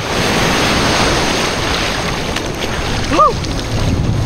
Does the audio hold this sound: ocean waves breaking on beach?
yes